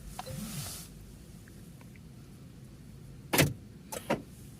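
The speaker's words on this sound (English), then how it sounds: "We'll go ahead and start by locking the car." Car doors locking by remote command from a DroneMobile smartphone app: two brief sharp mechanical clunks near the end, following quiet background and a soft low hum earlier.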